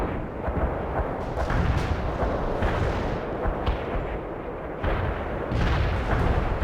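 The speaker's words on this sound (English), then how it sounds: "Our barrage hit the target." An artillery barrage in the strategy game World in Conflict pounds continuously, with loud overlapping booms and heavy rumbling that never lets up.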